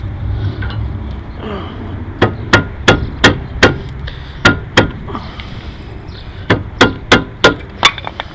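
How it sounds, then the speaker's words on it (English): Hammer striking front brake parts on a car, sharp metallic blows coming in rapid bursts of three to five hits separated by short pauses, loud and close over a low workshop hum. "Alright, I got a hammer."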